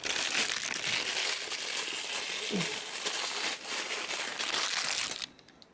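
Thin foil tokens crinkle and crush in the hand, a dense, steady crackling rustle that runs nearly throughout before stopping abruptly near the end, with a faint low voice murmuring beneath.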